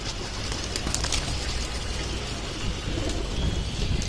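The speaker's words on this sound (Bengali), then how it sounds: "এই যে দেখেন কবুতর আয়া পড়ছে।" A pigeon coos softly among low rumbling cooing calls, faint and close, repeating over a few seconds against a quiet outdoor background with light rustling.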